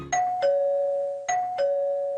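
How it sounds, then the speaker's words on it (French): A front-door doorbell rings twice, each a two-note ding-dong chime, clear and close with a short ringing decay after each tone in an otherwise quiet room. "Admettons, nous enregistrons la sonnette de l'entrée."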